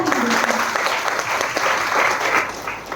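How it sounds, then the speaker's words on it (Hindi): An audience at a business event applauds in a dense burst of clapping that stays loud for about three seconds before tapering slightly, with a few voices mixed in. "NTC plus gold leader Abhimanyu Sahu sir और हमारे फ्रंट में जितने भी लीडर बैठे उनके लिए तहे दिल से जोरदार ताली का"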